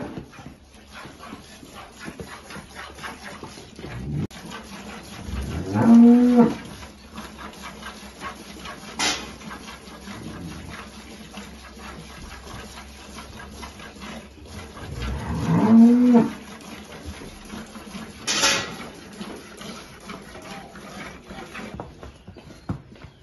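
Holstein dairy cows with a calf in a field in El Salvador give two loud, drawn-out moos several seconds apart, with quieter farm ambience and faint animal sounds between them.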